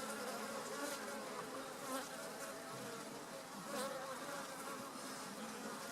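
Honeybees from a Kenyan top-bar hive colony hum in a dense, continuous buzz close by, steady in level with small swells as individual bees pass near, and no voices over it.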